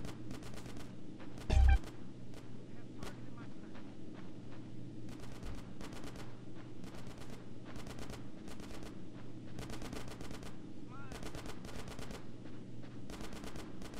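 Rapid bursts of automatic gunfire in GTA San Andreas crackle repeatedly over a steady low game soundscape, volleys recurring every second or so with one louder thump near the start.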